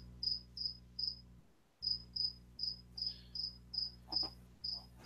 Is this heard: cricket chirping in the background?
yes